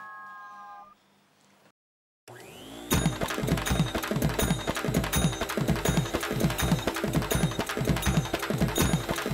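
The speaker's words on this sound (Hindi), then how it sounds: "तुम अगर जो ये अभी वैक्यूम क्लीनर बंद नहीं करता ना, तो मैं पूरा का पूरा ये वैक्यूम क्लीनर के अंदर होता।" A household vacuum cleaner starts up after a brief silence and runs loudly and steadily to the end, with a fast, rhythmic mechanical rattling churn that sounds close by in an indoor home setting.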